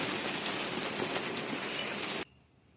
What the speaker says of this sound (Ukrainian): Незважаючи на те, що в нас злива.